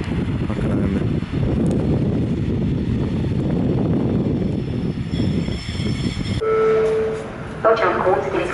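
A Łódź agglomeration railway train on the track at platform three of Skierniewice station gives a steady rumble with some wind buffeting, then a brief tonal whine near the end.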